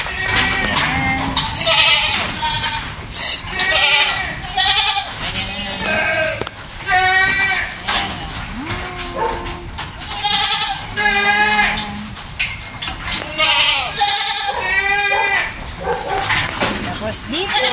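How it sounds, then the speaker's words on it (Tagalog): Many goats on a farm bleat over and over in overlapping, wavering cries, near and loud, while people talk among the animals. "Tapos dito, sa madaming kambing."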